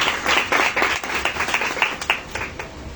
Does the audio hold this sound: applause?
yes